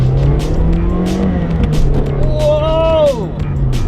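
A Toyota Yaris T-Sport's engine drones loudly and close, then revs hard with a rising whine and a tire squeal as it surges forward.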